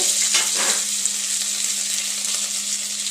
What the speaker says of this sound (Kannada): ಕರ್ಬೇವಿನ ಸೊಪ್ಪು ಹಾಕ್ಕೊಂಡಿದ್ದೇನೆ